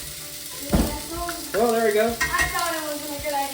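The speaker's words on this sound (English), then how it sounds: "Everybody, you hear that sizzle?" Burgers sizzle and crackle steadily in a hot cast iron pan, close to the mic, while someone talks over the frying.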